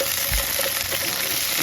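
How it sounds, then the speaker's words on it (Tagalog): Ingredients for apritada sauté in a hot pan with a steady, loud sizzle and a brief stirring scrape, close up and with no voices. "Gisa na natin."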